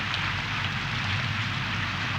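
Heavy rain falling, a dense continuous hiss and patter heard alone and loud for the whole short stretch.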